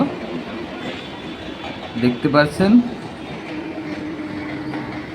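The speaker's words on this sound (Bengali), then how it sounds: "এই ট্রেনটা গেদে থেকে আসছে, এটা যাবে শিয়ালদহ" A 12-coach local passenger train from Gede bound for Sealdah rolls through a station with a steady rumble and wheel clatter. Brief speech and a short burst of louder wheel and carriage noise sit partway through.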